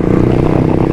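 Suzuki GSX-R 150 with a racing exhaust, a close, loud, rapid engine burble in one short continuous burst.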